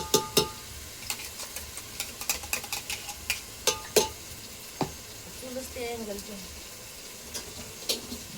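Masala frying and being stirred in a pot over a wood-fired stove (chulha) while making chicken biryani. A steady sizzle is cut by repeated sharp scraping and clanking strokes of the stirring, close by, with a brief voice in the background.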